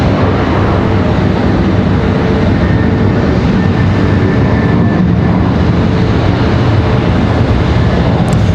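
Republic Airways Embraer E175LR jet at Charlotte Douglas airport, a loud steady broadband roar of engines that holds unbroken for the whole stretch, close and continuous with no talk.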